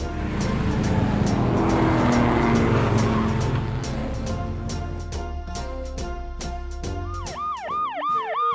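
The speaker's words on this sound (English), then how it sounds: "Police car." Police car siren in a kids' emergency-vehicle sequence, rising and falling wail entering near the end after a loud passing engine roar with rhythmic clicks, sweeping up and down clearly in the final seconds.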